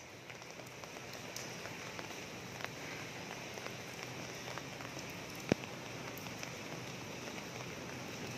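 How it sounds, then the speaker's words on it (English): Steady rain patters on a city street in Olongapo City, Philippines, a soft continuous hiss dotted with occasional louder drips, fairly quiet and with no voices. "Still raining."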